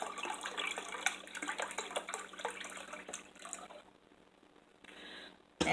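Chicken broth pours from a nearly full carton into a measuring cup, a steady liquid trickle and splash lasting several seconds before tapering to quiet, then a brief resumption.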